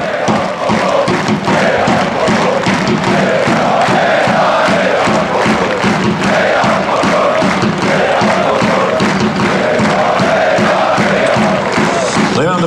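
Pogoń Szczecin football fans chant and cheer in a stadium: a huge crowd roars in steady rhythmic chanting with thumping beats, loud and sustained throughout.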